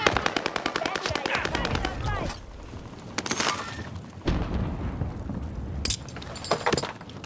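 Rapid automatic gunfire from Call of Duty Warzone on Rebirth Island rattles in dense bursts with gaps between volleys, alongside scattered single shots and game effects, with brief voices underneath.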